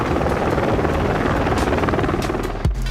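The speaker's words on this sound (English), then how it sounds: "In the sky, it's a helicopter, easy." A helicopter in Rainbow Six Siege makes a loud, steady rotor drone overhead that holds constant, with a brief thump near the end.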